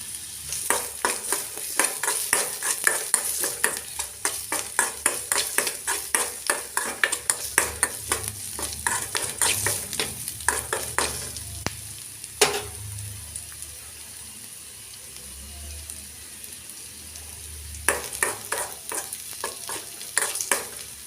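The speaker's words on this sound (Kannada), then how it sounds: "ಈರುಳ್ಳಿ ಕೆಂಪಗಾಗುವವರೆಗೆ ಫ್ರೈ ಮಾಡಿ" Sliced onions fry in a hot pan with a steady sizzle while a spoon scrapes and stirs in quick rhythmic strokes, pausing briefly near the middle before the stirring resumes.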